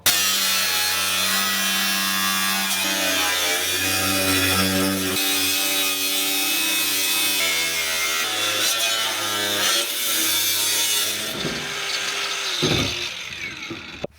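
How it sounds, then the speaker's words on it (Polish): Angle grinder cutting through stubborn rivets in sheet metal while fitting out a bus-based camper, a continuous harsh grinding whine holding steady for most of the stretch before easing off and tapering at the end, with no talk. "Za cholerę te nity się nie chcą rozwiercić, więc jedziemy szlifierką."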